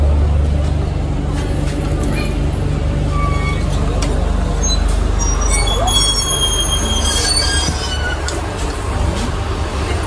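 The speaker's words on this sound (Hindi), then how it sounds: "अपने पीछे गरीब रथ लगा दी जा चुकी है" The Bhagalpur Garib Rath Express stands at a busy Indian station platform, with a constant loud low rumble of engines and machinery, high metallic squeals and tones above it, and faint crowd noise throughout.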